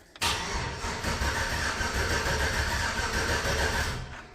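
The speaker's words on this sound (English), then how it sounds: "All right, so it cranks." A supercharged LSA engine in a 2006 GMC 1500 Z71 cranks over without fuel, a loud, close, continuous churning starter grind lasting about four seconds before dying away.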